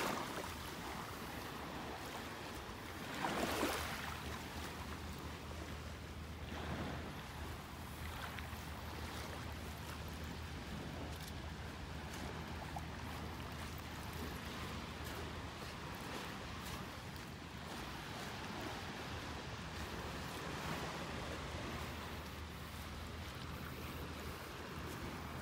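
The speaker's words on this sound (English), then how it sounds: "The gentle lapping of the waves," Gentle waves lap at a North Naples, Florida beach in a soft, steady wash, with a faint continuous low hum beneath and no talking.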